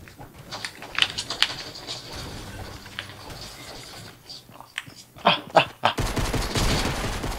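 Gunfire in Fortnite during splitscreen play: scattered sharp shots and quick bursts, some clustered near the end, mixed with clicky tapping sounds at moderate loudness.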